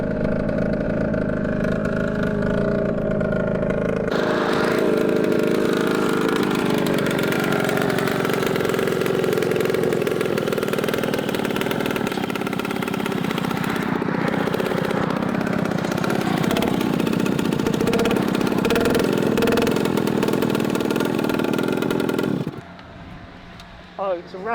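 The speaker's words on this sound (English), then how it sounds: "Listen to the exhaust." A small moped engine runs loudly with a harsh, buzzing exhaust and metallic rattle from loose exhaust bolts for about twenty seconds, then cuts out abruptly, leaving quiet background noise.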